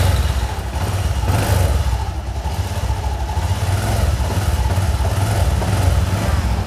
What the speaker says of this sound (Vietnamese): Nổ máy các anh chị nghe nha